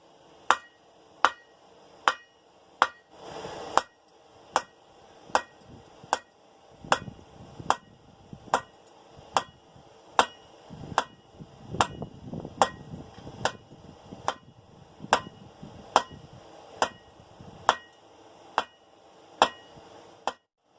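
A hammer strikes hot steel in a steady rhythm while a hook is forged on the end of a dinner bell. There are about two dozen sharp, ringing blows, close and alone.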